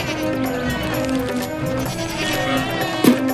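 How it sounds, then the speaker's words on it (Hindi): A goat bleats in an animated Hindi folk story, a wavering nasal cry drawn out over a few seconds against a busy background, ending in a short sharper bleat. "सिर्फ वही है जो आपको देखे जा रही है और कैसे मिमिया रही है"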